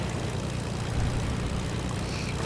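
An airplane engine drones steadily in the Fortnite video game during a duos match, a loud, unbroken propeller-like roar with no talk.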